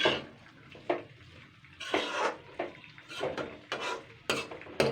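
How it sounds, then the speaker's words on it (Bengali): A spoon scrapes and knocks intermittently in a pan while fish roe and onion are stirred together, producing soft irregular clinks and shuffles at a quiet, close level with no talking. "আগে 3 মিনিট আগে নাড়াচাড়া করে নেবো পেঁয়াজটার সঙ্গে"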